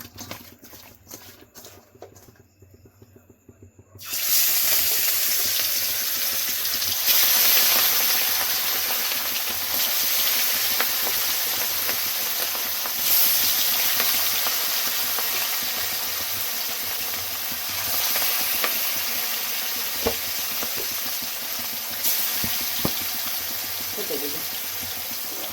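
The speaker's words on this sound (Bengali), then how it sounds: "মাছগুলো ভেজে নেব।" Rohu fish pieces frying in hot mustard oil in a kadai, a loud, steady sizzle that bursts in abruptly and crackles continuously with occasional pops, close up and without talk.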